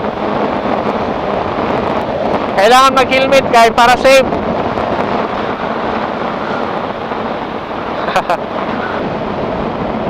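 Wind roars steadily against the microphone in a constant rushing blast at a mountain resort in Mobo, Masbate, with a short burst of horn-like beeps and a person speaking briefly.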